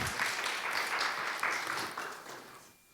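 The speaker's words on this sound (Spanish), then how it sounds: "¿Le damos un aplauso a Estelita?" A crowd claps steadily in a brief burst of applause that stays fairly even, then fades out toward the end.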